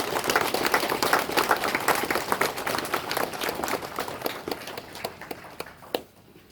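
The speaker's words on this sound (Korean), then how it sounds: "사부대중께서는 큰 스님께 박수 한번 보내드리도록 하겠습니다." Applause from the assembled fourfold Buddhist community for the great monk at a Jogye Order funeral ceremony at Hwaeomsa Temple on Jirisan, a dense burst of clapping that thins into scattered individual claps and stops abruptly near the end.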